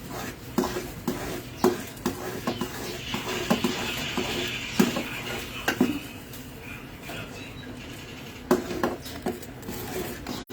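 Sauce cooks in a pan while a utensil stirs and scrapes against it in soft, irregular strokes with a faint sizzle underneath, all fairly quiet and close.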